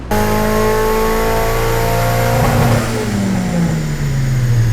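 A loud car engine on a dynamometer pull revs hard and steadily climbs in pitch, then winds down as the throttle lifts, continuous and close with no speech.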